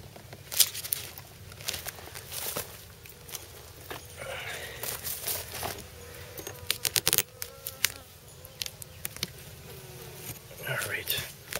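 Honeybees drone and buzz around an opened hive with a new queen, a steady near-and-far hum with individual bees passing close, punctuated by clicks and handling noise.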